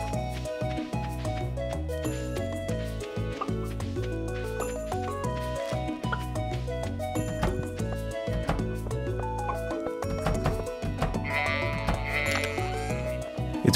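Sheep bleating in the Stardew Valley farming game, repeated short game bleats sounding over a continuous background music track, with no talking.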